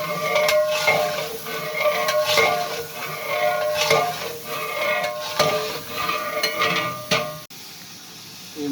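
Onions, garlic, ginger and tomatoes fry for chicken pulao, with repeated metal spoon clanks and scraping against the pot over a constant sizzle that continues throughout before briefly dropping away.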